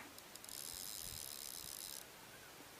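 Clicking ratchet of an Okuma Akena AK 400 spinning reel's bait feeder, a fine rapid ticking that runs for about a second and a half, close and faint with no voices.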